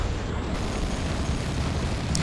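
A plasma cannon fires in the Dawn of War II: Retribution strategy game, a dense, roaring blast that fills the whole stretch loudly and steadily with rumbling noise, no voices over it.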